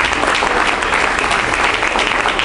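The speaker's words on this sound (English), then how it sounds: "Give her a round of applause." A church congregation in Fort Lauderdale gives a round of applause for a prophetess, thick continuous clapping at a constant loud level from start to finish, with nothing else heard.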